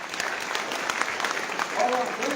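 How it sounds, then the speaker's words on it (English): An audience at a public meeting in Christchurch claps together, a quiet, steady patter of many hands lasting a couple of seconds, with a voice faintly audible underneath. "Let's give them a clap and say,"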